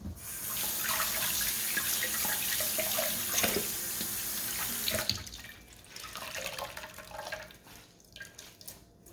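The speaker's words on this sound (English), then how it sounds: "rinse off my hands" Water runs from a kitchen tap into a sink as hands are rinsed during banana bread prep, a steady close splashing stream for about five seconds that then breaks into softer, uneven trickles and drips.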